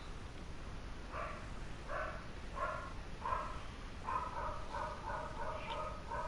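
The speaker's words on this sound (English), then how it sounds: "That was my dog." A pet dog barking indoors, a series of short mid-pitched barks spread across several seconds at moderate distance, over a steady background hiss with no talk.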